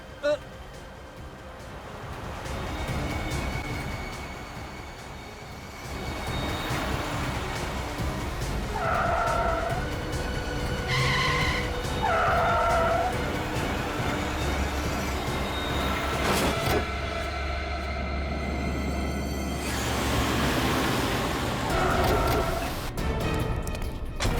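A car driven recklessly down a road skids with tonal tyre squeals over a steady engine and road roar, with voices talking over the noise.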